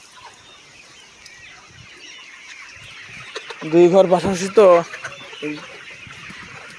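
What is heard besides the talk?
Sonali chickens clucking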